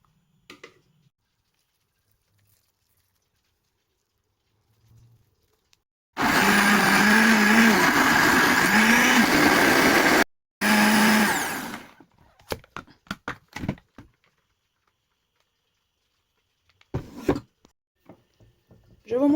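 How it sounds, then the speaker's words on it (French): A kitchen blender grinds roasted vegetables for tomato sauce, a loud steady whir lasting about four seconds, a brief stop, then a shorter second burst, followed by quiet clatter. "les transférer dans un mixeur pour pouvoir les broyer"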